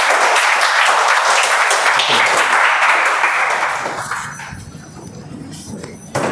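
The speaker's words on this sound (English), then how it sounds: "Give me a round of applause, please." Applause from a meeting audience at a Toastmasters gathering, dense and loud at first, then thinning and fading over the last couple of seconds.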